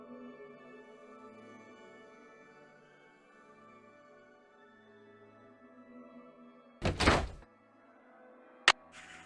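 A locked door rattles but won't open in the Nancy Drew adventure game The Haunted Carousel: a loud, brief thunking jolt over a quiet musical background, followed by one sharp click.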